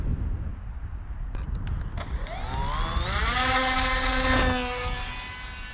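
An X-UAV Mini Talon RC plane's electric motor whines up in pitch after a hand launch, rising from a few clicks into a loud steady buzz that then fades slightly as the plane pulls away.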